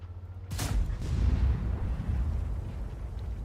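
An E 100 heavy tank rams another tank in an online tank battle game, giving a sharp crunching impact followed by a heavy, sustained low rumble of engines and grinding metal that stays loud throughout.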